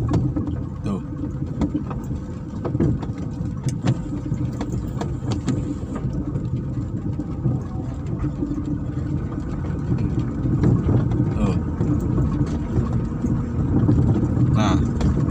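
A Suzuki APV engine running after a broken timing belt, a steady low idling rumble heard close and continuous throughout, with someone talking over it.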